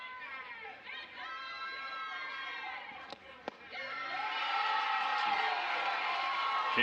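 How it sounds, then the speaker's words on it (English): Home crowd at a Kansas college softball game reacting to a pitch, a sustained murmur and groan of many voices that swells louder toward the end, with scattered shouts and a couple of sharp knocks. "KU crowd wanted a strike there"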